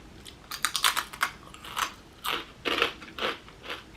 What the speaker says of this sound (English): Oh my god, that crunch.